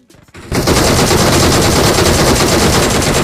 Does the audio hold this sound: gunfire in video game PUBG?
yes